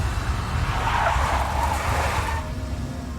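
A big black Mercedes in the video game Max Payne skids with a loud, sustained hiss of tire scrub over a low engine rumble, easing off near the end. No voices are heard.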